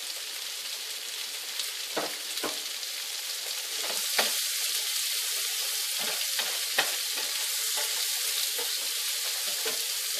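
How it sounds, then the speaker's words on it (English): Onions fry in butter and spices in a pan for butter chicken, giving a steady, close sizzle with occasional spatter pops and soft stirring scrapes throughout, with no voices. "Fry the onions till they're nicely done."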